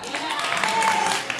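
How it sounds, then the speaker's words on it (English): A debate audience breaks into applause, a steady wash of clapping hands that fills the short moment at an even level with no voice standing out. "they all clap"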